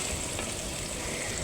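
Chopped onions frying in a pan, a dense, even sizzle running steadily throughout without pause, close up and fairly soft.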